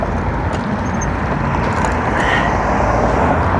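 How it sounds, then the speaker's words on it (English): Road traffic on Haddonfield-Berlin Road in Cherry Hill, New Jersey, heard from a bicycle: dense, continuous loud roar and wind rush of passing vehicles, with no talking. "There's quite a bit of traffic."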